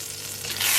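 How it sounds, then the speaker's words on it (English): Butter hits a hot pan for an omelette, a soft hiss that swells into brighter, louder sizzling over under a second. "Now this pan is a bit hot. I'm going to add just a bit of butter, and I'm going to start making my omelet."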